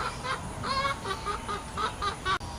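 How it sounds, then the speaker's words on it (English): Agitated chicken clucking in a rapid, repeated run of harsh calls near and loud, with a brief drop near the end. "yes, there's an angry chicken."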